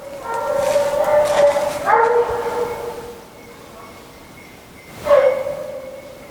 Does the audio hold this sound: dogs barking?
yes